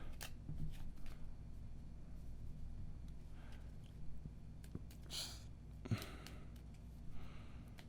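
Quiet riffling and soft flicking of cards being shuffled, in short bursts close by, with faint breathing and small handling noises between.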